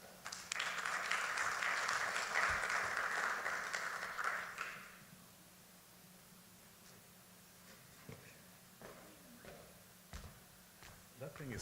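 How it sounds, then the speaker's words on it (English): An audience applauds a keynote speaker, a dense burst of clapping in a hall for about four seconds before fading into quiet room noise with a few scattered knocks. "please give Saru a round of applause"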